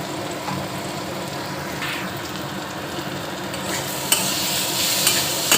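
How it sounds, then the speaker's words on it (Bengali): Turmeric and chili powder are stirred into an amla pickle in a pan, with a continuous soft sizzle under scraping spoon strokes and a few sharper knocks against the pan near the end. "ভালো করে একটু নেড়ে নেবো"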